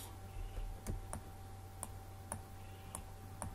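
Computer keyboard and mouse clicks while working in Photoshop, a series of sharp, isolated clicks at irregular intervals over a low steady hum, fairly quiet and close.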